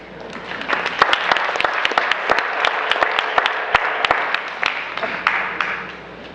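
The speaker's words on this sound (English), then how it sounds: "It was an interesting round of applause for Donna" Audience at a Democratic Board of Aldermen candidate forum applauds a candidate, a loud, sustained round of many hands clapping with sharp individual claps standing out, lasting over six seconds.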